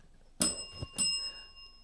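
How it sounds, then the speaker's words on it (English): Two bright metallic dings from a desk bell rung close to a microphone, each with a clear ringing tone that lingers and fades, with no talking. "That's a real bell."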